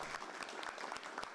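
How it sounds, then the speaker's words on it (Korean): Aides give President Moon Jae-in a round of applause as he returns to work, a brisk, fairly faint patter of many hands clapping steadily from a modest distance. "업무에 복귀한 문재인 대통령을 참모들이 박수로 맞이합니다."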